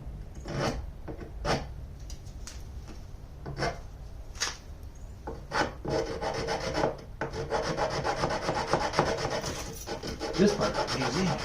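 Sandpaper rubbing against the wood inside a small round cutout on a mandocello body, a close, steady run of scratchy back-and-forth strokes that become denser and more continuous toward the end.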